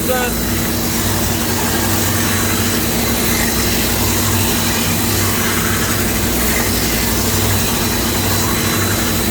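A grinding wheel stone finishes a part on a workbench during 4T65E transmission repair, giving a loud, steady, continuous whir with a low motor hum throughout and no pauses.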